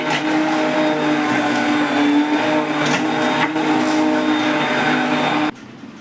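A kitchen blender whirs loudly and steadily as it purees fresh mangoes for a homemade fruit drink, then cuts off abruptly just before the end.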